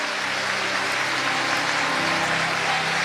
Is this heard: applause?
yes